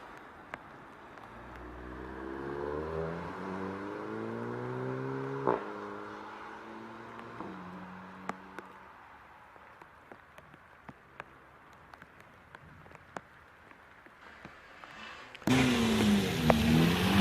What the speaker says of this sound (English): the Cupra is a very fast, in standard form, is a very quick car